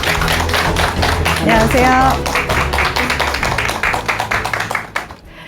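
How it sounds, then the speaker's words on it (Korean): A studio audience applauds loudly to welcome a guest onto a Korean talk show, with steady dense clapping that thins out and fades at the end. A voice briefly greets over it. "큰 박수로 맞아주시기 바랍니다"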